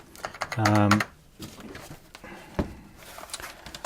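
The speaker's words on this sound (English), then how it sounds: "STs were known for having their mushy keyboards, but this one's actually not that bad." Typing on an Atari 520 STM computer keyboard, its soft, mushy keys giving a quick burst of close clicks followed by a few scattered keystrokes.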